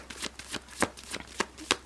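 Tarot cards are shuffled in a quick, close series of crisp riffling bursts, about seven short flutters spaced irregularly over two seconds, with no talking.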